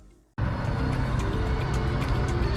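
Large Axial SCX6 RC crawler car starting a towing test: a sudden onset of steady motor and drivetrain whine that holds loud and constant, close by with no talk.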